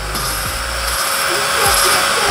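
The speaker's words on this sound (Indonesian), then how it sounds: "satu kali kita tekan untuk tombol bor ini sudah berapa puluh kali berputar ya" A power drill used for lapping engine valves while the cylinder head is being rebuilt runs as a steady, fairly loud whir through the whole stretch. A few faint knocks are mixed in.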